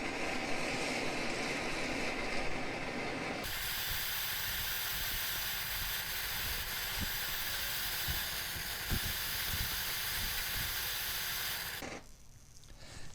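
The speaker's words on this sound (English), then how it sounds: "it does appear to be sizzling, so it might start boiling" A loud, steady roaring hiss runs for several seconds, like a propane torch flame with a diesel exhaust fluid urea mixture sizzling underneath, then drops off abruptly near the end.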